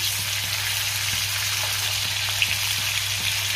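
Rohu fish pieces frying in oil in a pan over a high-to-medium gas flame, giving a steady, even sizzle with fine crackling throughout and no voices.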